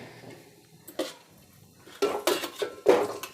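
A big ladle clatters against a metal cooking pot while coconut rice is made at home: a couple of faint knocks, then a quick run of loud metallic clinks and scrapes close by.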